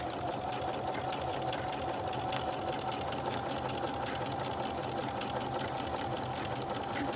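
A sewing machine runs a decorative stitch on a fabric seam sample, its fast needle chatter steady and even for several seconds at close range.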